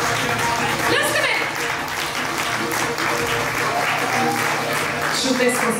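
Audience applause for first-grade children at a Bulgarian school letters celebration, steady broadband clapping throughout with a teacher's voice and room chatter mixed in.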